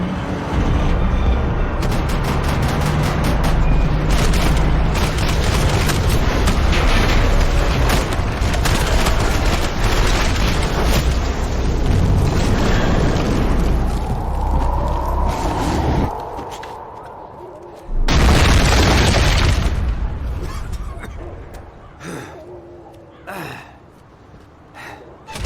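A Max Payne 3 shootout with rapid gunfire and booming shots in dense bursts, loud and continuous for a long stretch before cutting out, with shouting voices and gasps over the top.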